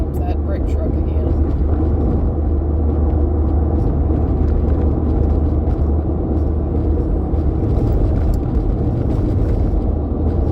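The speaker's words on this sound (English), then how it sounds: "Here comes that brick truck again." A heavy brick truck rumbles past nearby, a continuous low droning engine roar that holds steady throughout with no clear voices.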